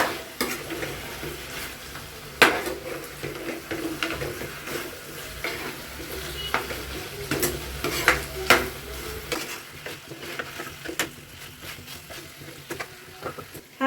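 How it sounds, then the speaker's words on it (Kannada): Chicken pieces frying in a pan for pepper chicken, stirred with a metal spoon: a low sizzle under irregular scrapes and sharp clinks against the pan, close by, with no talking. "ಚಿಕನು ಒಂದು ನೈಂಟಿ ಪರ್ಸೆಂಟ್ವರೆಗೂ ಫ್ರೈ ಆಗಬೇಕು ಅಲ್ಲಿವರೆಗೂ ಫ್ರೈ ಮಾಡ್ಕೊತೀನಿ"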